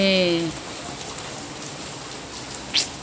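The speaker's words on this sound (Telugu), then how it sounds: "చాలా దారుణంగా ఉంది తుఫాన్ అయితే." Heavy rain pours down during Cyclone Montha, a dense, continuous hiss of drops on surfaces close by, with a brief tonal sound at the start and a short sharp splash near the end.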